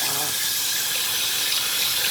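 Steady running hot water from a tap, a continuous bright hiss that stays even and close for a couple of seconds, with no talking.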